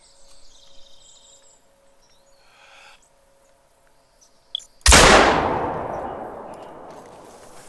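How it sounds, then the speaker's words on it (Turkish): A single loud, close rifle shot from theHunter: Call of the Wild while hunting a rabbit, cracking sharply out of a quiet night scene of owl hoots and crickets and then rolling into a long, fading echo. "ilk avımızı vurduk"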